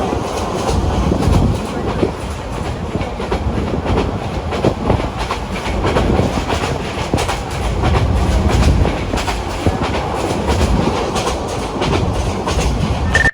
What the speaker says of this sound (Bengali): তো অবশেষে আমাদের ট্রেন ছাড়লো গন্তব্যের উদ্দেশ্যে।